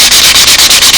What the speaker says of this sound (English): Just the slightest little sanding here, just to kill the hairs in the silk span.